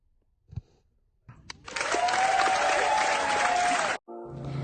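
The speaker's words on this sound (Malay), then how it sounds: "Anda mendengar tepukan daripada penonton" Spectators applauding a long jump winner: a burst of dense crowd clapping swells in after a short thump, holds steady and loud for a couple of seconds, then cuts off abruptly.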